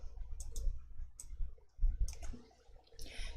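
Computer mouse buttons click a few times, sharp and close, separated by short pauses, during work in an Excel spreadsheet.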